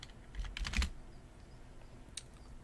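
Keys on a computer keyboard clack in a quick burst of a few close taps, then a single faint tap after a short quiet gap.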